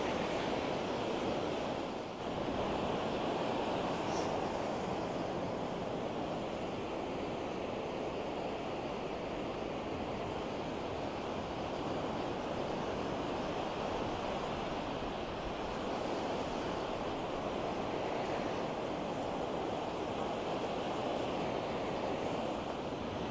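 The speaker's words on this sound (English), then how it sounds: "I mean, I'm standing in the waves." Ocean surf washing onto a sandy beach in San Diego, recorded while standing in the waves: a steady, loud, continuous wash of breaking water with some wind rumble, no talking.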